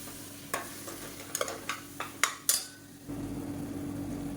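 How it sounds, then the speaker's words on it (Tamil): Blended tomato paste sautés in oil in a pan for a kuzhambu curry, with a spoon scraping and clinking against the pan several times over a low sizzle that swells into steady bubbling frying. "இதையும் சேர்த்துட்டு நல்லா எண்ணெய் புரிஞ்சு வர அளவுக்கு நல்லா வதக்கி விட்டுக்கலாம்"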